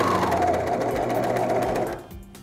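A serger sews a two-thread flatlock seam, its steady rapid whir running continuously and close for about two seconds before slowing and stopping.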